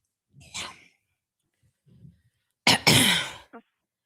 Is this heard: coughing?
yes